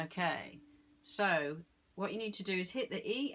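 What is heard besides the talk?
No everyday noises stand out.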